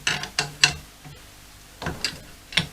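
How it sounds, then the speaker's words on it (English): Spanner ratcheting on the nuts of a motorcycle rear shock spring compressor on a Honda CB-1, several short mechanical clicking bursts in two clusters with a pause between, close and fairly quiet. "now it's just a case of tightening up these nuts evenly"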